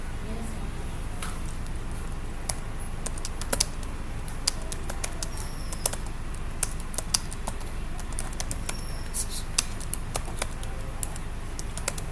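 Rapid clicking keystrokes on a computer keyboard, irregular bursts of close, crisp taps over a steady low hum, with no talking.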